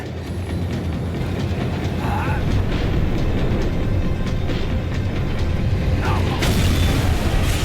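A tram in Max Payne 3 slowing down, a loud steady rumble of rails and machinery running throughout, with a couple of metallic squeals or clunks along the way.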